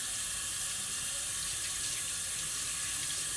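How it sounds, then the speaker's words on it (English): Water runs steadily from a sink tap in a handwashing setting, a constant close hiss of flow with no voices. "Leave the water running."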